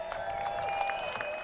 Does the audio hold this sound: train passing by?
no